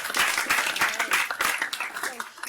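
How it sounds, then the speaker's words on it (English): Conference audience applauding a speaker on healthy technology for young people, a dense, lively burst of clapping from many hands, fairly loud and steady, with a faint voice underneath near the end. "So let's give her a round of applause"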